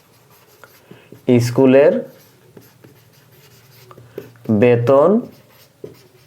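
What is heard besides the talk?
writing while noting an accounting entry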